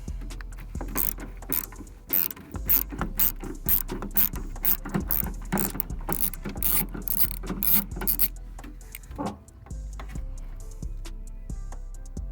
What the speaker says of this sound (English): with an extension on there on a 1/4" ratchet